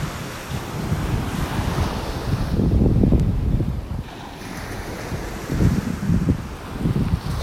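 Breeze gusting over a beach in North Naples, Florida, with steady wind rumble against the microphone and surf washing in underneath, swelling louder midway and again near the end.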